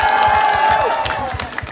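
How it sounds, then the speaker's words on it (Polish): Crowd applause at the Irządze currant and bread festival (Święto Porzeczki i Chleba), a steady patter of clapping under a sustained musical tone with rhythmic low thumps, fairly loud and close. "Wielkie brawa, kochani, dziękuję wam za takie przyjęcie"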